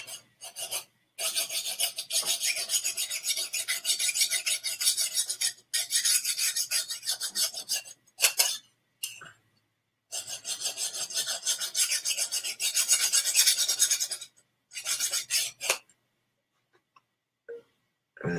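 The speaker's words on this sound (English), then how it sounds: "I literally have to apply friction and the blunt force of a steak knife sharpener to sharpen it" Steak knife sharpener rasps repeatedly against a thick metal blade, loud and close in long scraping strokes broken by short pauses and a few longer gaps.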